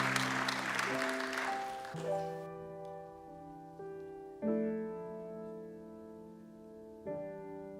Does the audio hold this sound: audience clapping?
yes